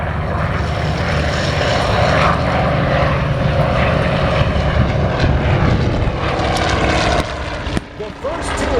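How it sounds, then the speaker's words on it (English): Propeller-driven military aircraft from the Vietnam era sweep past at a war re-enactment, a loud, sustained engine roar that fills the scene before easing off near the end, with a voice talking over it. "The first two aircraft that came through"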